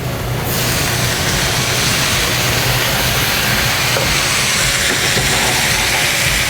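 A loud, steady hiss of steam as stock hits a hot pan holding browned short ribs and softened vegetables, the sizzle bursting in sharply and holding strong without a break.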